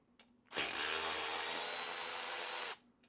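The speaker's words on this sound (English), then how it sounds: "So let's take these bolts out next." Power tool removing bolts from a Johnson 70HP outboard lower unit during seal replacement, a single loud, steady high-pitched whir lasting about two seconds with an abrupt start and stop, close up and without talk.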